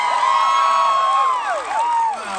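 Fan Expo Canada convention crowd in Toronto cheering and screaming, with loud, high, sliding squeals and whoops overlapping in a steady, close wash of sound.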